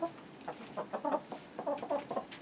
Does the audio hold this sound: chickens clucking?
yes